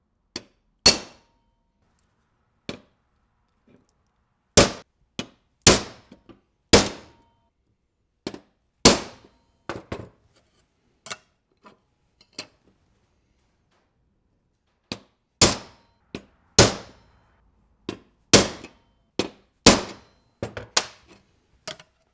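Sharp metallic hammer blows drive a transfer punch into a metal plate on an engine test-stand build, coming as loud separate clangs in irregular bursts with short pauses between groups.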